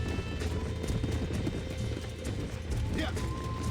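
Wild horses in Red Dead Redemption clop along in a steady, fast hoofbeat rhythm that continues throughout, set against a dense game soundscape with a brief whinny-like tone, while someone talks over it.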